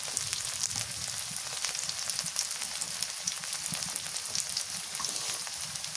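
Garlic paste, with onion paste already in, fries in a pan with a steady, close hissing sizzle and faint crackle. No voices break through.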